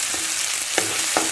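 Green chillies, onion and garlic sizzle steadily while being sautéed in a pan, with a few louder stirring scrapes breaking through the constant frying hiss.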